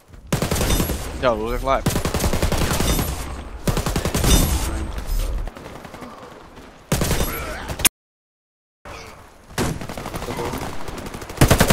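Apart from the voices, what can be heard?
gunfire from a gun in Brain Smasher video game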